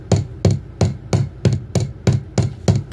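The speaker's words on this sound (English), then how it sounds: "the swirl using our hammer and our steel bench block" A hammer strikes wire laid on a steel bench block, giving nine sharp, evenly spaced metallic taps at a quick, steady rhythm, close and clear with no voices.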